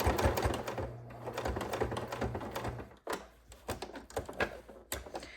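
A sewing machine reverse-stitches across an apron strap, giving a fast run of mechanical needle clatter, a brief stop, then renewed short bursts of stitching, close up with no talk.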